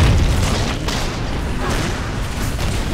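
A loud, rumbling car explosion in the video game Medal of Honor: Warfighter roars on with dense low booming and crackle, sustained and close throughout, with no voices.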